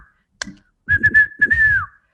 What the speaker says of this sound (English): one of your friends started whistling to harmonize the rhythm of the music